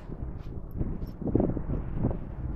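Gusty coastal wind buffets the microphone near the King Salmon and Fields Landing waterfront in Humboldt, California, producing a low, uneven rumbling roar that swells and fades over a few seconds.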